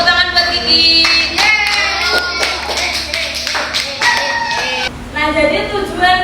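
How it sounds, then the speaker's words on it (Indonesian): A classroom of students clapping for a classmate named Kiki, a burst of hand claps mixed with voices and chatter, loud and close, with speech running through it. "Tepuk tangan buat Kiki."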